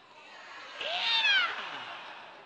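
A cat gives a single drawn-out meow that rises and falls, heard close over a steady background hiss.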